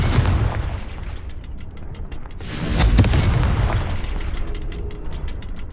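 A Confringo fire spell bursts in Hogwarts Legacy, giving a loud, rumbling blast that swells near the middle over continuous dense, crackling game noise and rhythmic tapping.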